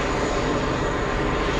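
Aircraft on its takeoff roll at JFK airport, a loud continuous engine roar filling the whole short span with steady broadband rumble.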